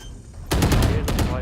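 Rapid bursts of automatic gunfire from Viper in Valorant, a loud stream of shots kicking in abruptly and repeating in quick uneven volleys.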